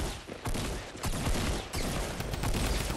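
Rapid gunfire bursts from the video game Fortnite crackle in quick volleys, loud and dense, with short gaps between flurries and little or no speech over them.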